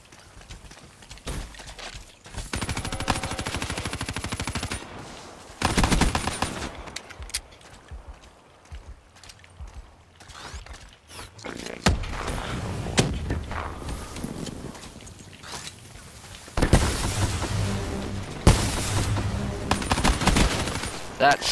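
Gunfire in Call of Duty: Black Ops III, with bursts of rapid automatic shots and fusillades coming in clusters separated by quieter stretches, mixed with footsteps and other game sounds while a voice talks at times.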